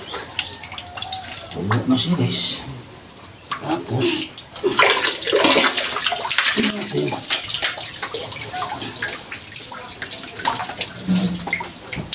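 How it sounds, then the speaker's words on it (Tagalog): Water is poured steadily into a shallow well pump to fill it, splashing and gurgling continuously at close range while someone talks intermittently. "Lagyan natin ng tubig para..."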